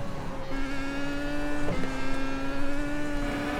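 An F1 race car in a VR racing game drives at speed over curbs and a crest, its engine a steady high-pitched whine that dips briefly mid-way, then climbs again.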